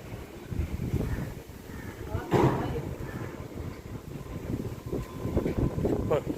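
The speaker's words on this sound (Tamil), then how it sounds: "செம்ம காற்று நல்லா சூப்பராக இருக்கு" Gusty wind rumbles across the microphone in uneven bursts, with faint voices mixed in beneath the buffeting, at a hillside temple in Chennai.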